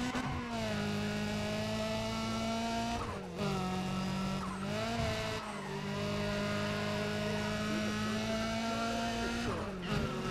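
Turbocharged car engine in Need for Speed: ProStreet racing at an airfield, droning loudly and steadily with rising revs, brief dips at gear shifts, and tire squeal mixed in.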